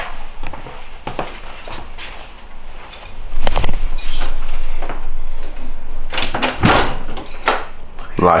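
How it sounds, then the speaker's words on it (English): A door being shut in a garage, several sharp knocks and a louder thud standing out over rustling, movement and a noisy background. "Can you shut that door, Dion, please?"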